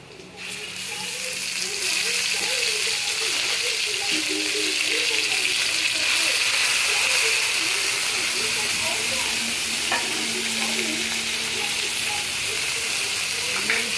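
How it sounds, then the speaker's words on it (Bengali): Ground spice paste fries in a pan for a rohu fish curry, a dense, constant hissing sizzle with occasional scraping from stirring, and faint voice sounds underneath. "পেস্ট করা মশলাগুলো আমি দিয়ে দিচ্ছি।"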